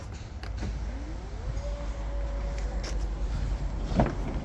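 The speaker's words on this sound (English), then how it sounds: "Electric tailgate." Electric tailgate on a 2018 Volvo V90 estate whirring as it moves, a smooth rising motor tone with a soft clunk near the end, heard alone.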